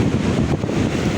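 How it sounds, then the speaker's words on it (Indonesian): Strong wind buffets the microphone on rocks beside rising tidal water, a steady loud roar with a low rumble and no break across the short stretch. "Posisinya angin keras di batu dan ini air mulai pasang."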